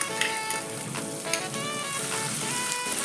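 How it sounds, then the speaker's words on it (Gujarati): Chopped onion sautéing in a pan of oil with cumin seeds, curry leaves and slit green chillies, a steady close sizzle with crackling pops throughout. "ડુંગળીને સાતરી લેવાની છે બરાબર"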